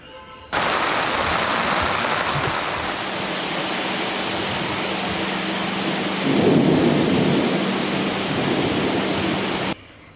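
Heavy rain falls in a thunderstorm, a loud steady roar of downpour with a deeper rumble of thunder swelling partway through, close and continuous with no voices.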